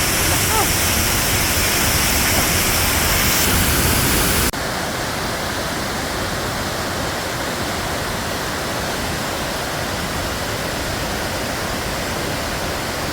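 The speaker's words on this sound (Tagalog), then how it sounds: "Ang laki nung ano na yun, oh, waterfalls na yun." Waterfall roaring in a Philippine nature spot, a loud steady broadband rush that drops to a softer, more distant wash partway through, with wind noise and no speech.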